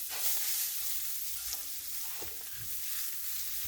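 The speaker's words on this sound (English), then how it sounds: "And we're going to saute this up very quickly." Food sautéing in a hot pan in a homestead kitchen, a continuous bright sizzle with a few soft stirring scrapes and knocks, close and steady throughout.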